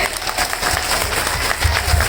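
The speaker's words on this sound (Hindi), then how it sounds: "मेरी महिला के लिए ताली बजाओ" Applause from a Kumhar Prajapati community gathering in Gwalior, dense steady clapping with crowd noise throughout, with some voices underneath.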